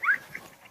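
A kelpie gives one short, high whimper up close, followed by faint rustling and near silence.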